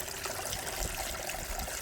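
Water is poured onto freshly planted mint stems in a garden, a close, steady trickling splash lasting about two seconds with no voices.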